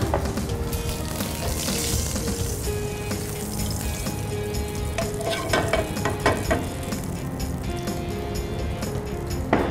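Onions fry in hot oil with a dense, crackling sizzle that swells and shifts as they are stirred, close and fairly loud throughout, without talk.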